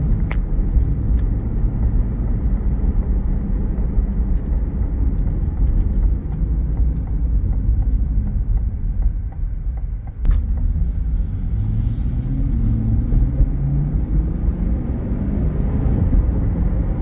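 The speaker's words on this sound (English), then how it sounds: "we're gonna do a quick test drive" Cabin view of a 2021 Chevrolet Corvette Stingray 3LT on a test drive: a continuous deep engine and tire rumble, with a brief knock midway and then engine pitch rising and falling as the car shifts.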